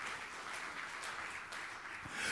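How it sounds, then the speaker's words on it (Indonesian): Congregation applause during a church sermon, a steady, even wash of many hands clapping at moderate distance, sustained for a couple of seconds with no speech over it. "Tepuk tangan yang meriah untuk kemuliaan nama Tuhan."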